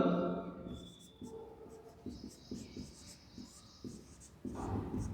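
Chalk or marker strokes on a classroom board during a biology lesson, a steady run of short scratchy strokes up close while a teacher keeps lecturing over them.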